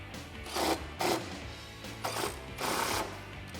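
A 13mm socket wrench tightening running board bolts on a Jeep Wrangler JL 4-door, several short bursts of ratcheting clicks and metallic rubbing, close and fairly quiet.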